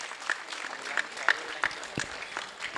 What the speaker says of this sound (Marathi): फादरांचं आपण टाळ्या अभिनंदन करूया